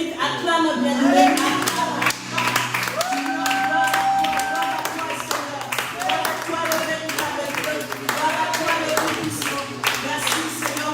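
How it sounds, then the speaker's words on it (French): Clapping from a congregation during a church service, steady and continuous, mixed with singing and music throughout. "Parce que tu mérites. Acclame bien."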